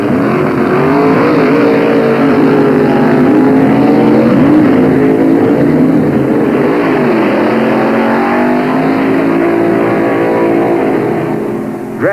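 Drag racing cars at a 1965 drag strip, a loud continuous engine roar with wavering pitch that fills the whole stretch before tapering slightly at the end.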